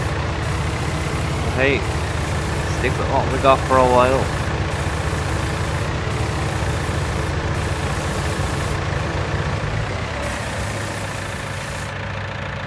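Tractor in Farming Simulator 19 idling with a steady low mechanical drone throughout, moderately loud, while someone talks briefly over it.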